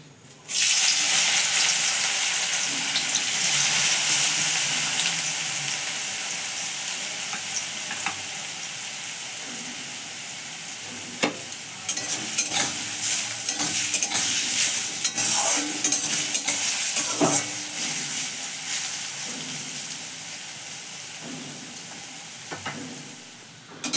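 Potatoes fry in hot oil in a steady, loud sizzle while they are stirred, with scraping stirs breaking through and the sizzle easing slightly over time.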